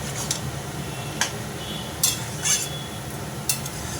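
A spoon scrapes and clinks against a pan while stirring banana flower and prawn curry, a few sparse metallic taps over a low steady background, close and fairly quiet.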